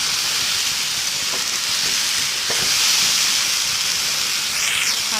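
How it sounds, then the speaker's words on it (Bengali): Jackfruit seeds and chili powder sizzle steadily in a hot pan, with a constant loud hiss of frying and a few faint stirring scrapes. "এখন কাঁঠাল বিচিগুলো আমি দিয়ে দেবো। দিয়ে আবার হালকা নাড়াচাড়া করে নেব।"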